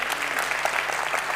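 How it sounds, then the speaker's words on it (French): An audience at a comedy festival claps in a brief, dense burst of steady applause, close and lively. "applaudissements pour lui, s'il vous plaît."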